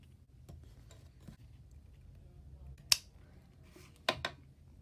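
A few sharp scissor snips cutting a piece for a small craft sign, two distinct clicks separated by quiet handling noise in a calm room.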